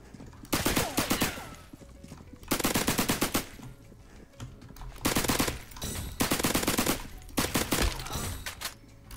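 Suppressed Tommy gun bursts in the Roblox game Criminality: four rapid automatic volleys of muffled gunfire, each a second or two long, separated by short pauses, with no speech.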